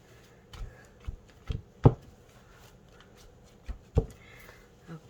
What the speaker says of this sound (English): I'm going to pat this to get any extra glue off of it.